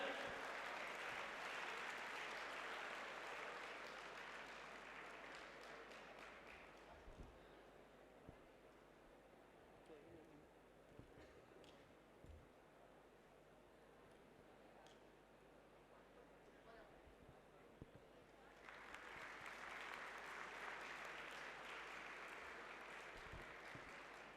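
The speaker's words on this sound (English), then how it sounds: "A huge round of applause for our paper presenters." An audience at a technical session applauds paper presenters receiving mementos. The clapping is fairly dense at first, thins to a quieter stretch with scattered claps and murmurs in the middle, then swells again near the end.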